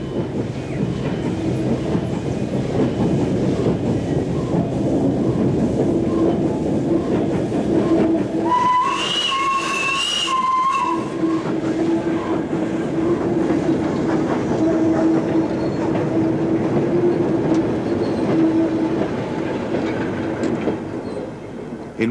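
LNER steam locomotive hauling a demonstration train on the North Yorkshire Moors Railway, a steady rolling rumble and clatter of wheels with a brief whistle-like tone midway.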